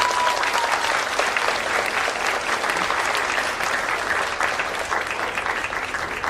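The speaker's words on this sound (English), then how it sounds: "Another round of applause for both groups" An audience at a high school humanities symposium claps steadily, a dense sustained round of applause filling the room with no voices over it.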